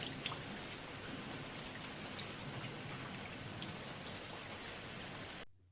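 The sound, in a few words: rain falling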